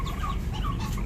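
A mother hen clucks in short, close bursts beside a clutch of newly hatched Muscovy ducklings, the soft repeated calls sounding over a steady low background rumble.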